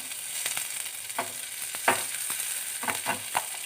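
Cumin, mustard seeds, curry leaves and coriander leaves spit and sizzle in hot oil as a tempering for capsicum chutney: a steady hiss broken by sharp crackles and pops, close and clear, with no voices.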